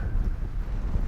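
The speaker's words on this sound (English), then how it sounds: "It's mega windy up here." Strong wind buffets the microphone with a loud, constant low roar and gusty rumble.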